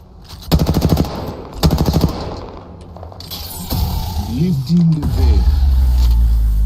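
Two rapid bursts of automatic gunfire from a first-person shooter video game, each about half a second long and loud and close, followed by quieter mechanical game sounds and a low rumble.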